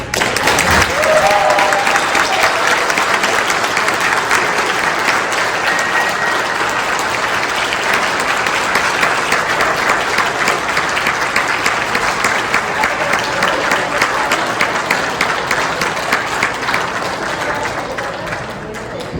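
Sustained applause from a convention audience at a film panel in Las Vegas, a dense, even wash of many hands clapping that holds for nearly twenty seconds before easing slightly.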